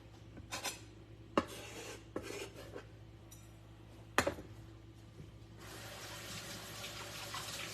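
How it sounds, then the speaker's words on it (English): Peppers rinsed under a running kitchen faucet, with a few soft clinks and taps before the water settles into a steady, quiet rush over the last two seconds. "All right, I'm going to rinse these out."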